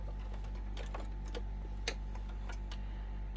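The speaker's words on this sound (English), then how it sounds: "we're going to head to the sewing machine and we're going to stitch this down" A sewing machine stitching down a quilt block runs steadily with a soft mechanical hum and ticking, punctuated by a few sharper clicks, fairly quiet and without speech.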